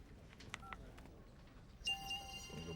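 A phone rings in the NCIS video game. A faint electronic ring tone with bright sustained pitches comes in late in a quiet, low-level scene, after a few soft clicks or beeps.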